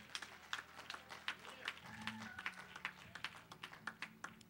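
A congregation at a church communion service claps in a steady, rhythmic beat, sharp hand claps repeating under voices and background talk.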